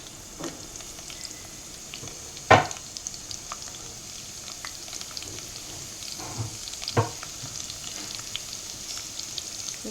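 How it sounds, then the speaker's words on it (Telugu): Crushed garlic and cloves frying in oil for a fish curry, a soft steady sizzle with a few louder spatters and pops, no voices. "కొంచెం ఫ్రై అవ్వాలి. ఇది కొంచెం వేగింది."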